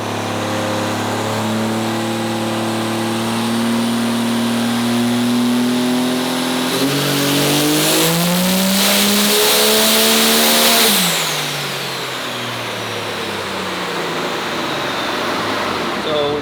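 A race-prepped truck engine with a freshly resealed intake plenum revs hard on a dyno, its loud, close note climbing steadily for about ten seconds before cutting back to a lower, rough idle.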